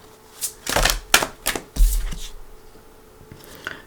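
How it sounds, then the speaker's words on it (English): Tarot cards being shuffled by hand, a few quick riffling and flicking bursts close by, then softer handling that fades out, with no talking. "I do want to give them a nice shuffle"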